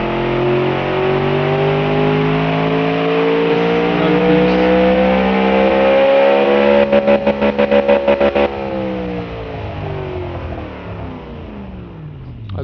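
In a racing video game a big car engine revs hard and holds high against the rev limiter, its pitch climbing, then stutters briefly and winds down as the revs fall away.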